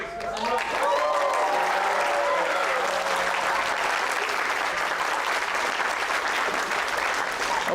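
A student audience at a creative talk claps loudly and cheers, a dense sustained roar of applause with whoops and shouts rising over it.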